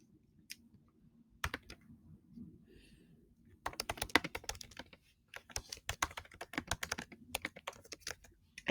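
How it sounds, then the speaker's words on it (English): Fingers tap on a computer keyboard in quick, uneven bursts, crisp and fairly close, with brief pauses between runs of keystrokes and no talking. "And you can type right in the box."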